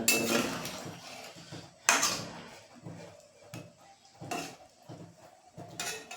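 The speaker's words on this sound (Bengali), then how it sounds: "এর মধ্যে এবারে পনিরগুলো, চিংড়িগুলো একটু নাড়াচাড়া করে দেবো" Paneer and prawns are stirred in a pan of boiling liquid for a prawn, eggplant and paneer dish, with several sharp metal spatula knocks and scrapes spaced a second or so apart over a soft background bubble.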